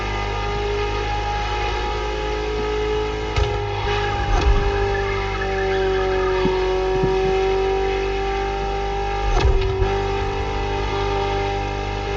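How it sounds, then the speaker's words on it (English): Ferrari supercar engine in Test Drive Unlimited, a steady droning tone that climbs and dips gently as revs shift, with a couple of short bursts of added roar, constant and close throughout. "Just listen to the car you're driving."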